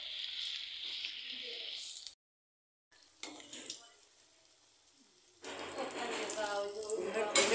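Begun, aubergine fritters, frying in plenty of white oil: a loud hissing sizzle that breaks off into silence, returns faintly with some clatter, then swells back to a strong bubbling fry, with no talk.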